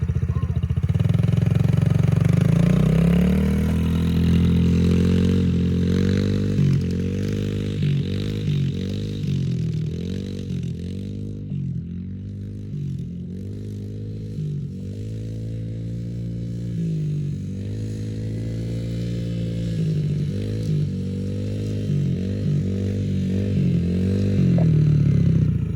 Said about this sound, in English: Go, learning with Landon out here, learning how to ride a 110